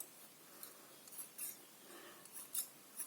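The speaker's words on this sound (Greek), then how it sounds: "τώρα κόβω όσο πιο συγκεντρωμένα και ίσια μπορώ στις άκριες" Scissors snipping through tulle and lace edges: faint, close, crisp little cuts in a loose irregular rhythm, with soft rustling of fabric between them.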